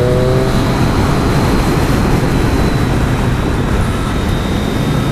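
A Triumph 660S motorcycle accelerates hard while overtaking, a loud sustained engine roar mixed with heavy wind rush, steady and close throughout.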